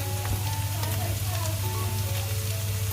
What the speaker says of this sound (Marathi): कांदा टमाटरची पेस्ट आपली चांगली परतून झालेली आहे त्याच्यात आता मी लाल तिखट मसाला घालते